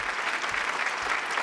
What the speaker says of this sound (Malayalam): ഒന്ന് ഉഷാറായിട്ട് കൈയടിച്ചേ